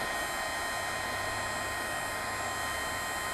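A heat embossing tool blows steadily over embossing powder on a stamped card, giving a continuous, even whooshing hiss with no breaks and no voices.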